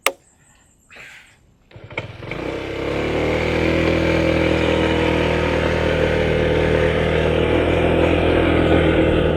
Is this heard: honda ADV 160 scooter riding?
yes